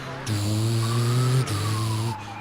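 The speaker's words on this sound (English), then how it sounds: "This car sounds way too meaty. Like, the sound effect for it is like" Car engine effect from the top-down crime game Grand Theft Auto 2, a deep, meaty steady drone heard alone, shifting pitch with brief breaks as the car accelerates, plus a faint rising whine.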